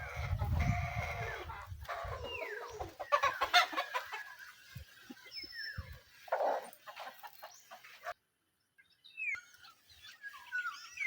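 A wild tabon bird chick gives a scatter of thin chirps and small calls, faint and intermittent, over low rustling and handling noise up close, with short quiet gaps between.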